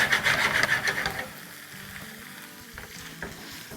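Kabab 65 pieces coated in masala sizzle and crackle as they roast in a hot pan, loud and busy for the first second and a half, then dropping to a quieter scattered frying hiss with occasional scrapes.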